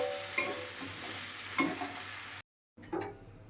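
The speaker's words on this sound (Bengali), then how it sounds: "তার একটু কষিয়ে নিয়ে তারপরে এতে জল দেবো।" Boiled soybeans and dal sautéing in a pan give a bright, close sizzle with a few stirring scrapes, briefly cut off to silence before the frying noise resumes.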